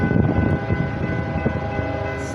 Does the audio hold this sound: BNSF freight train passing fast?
yes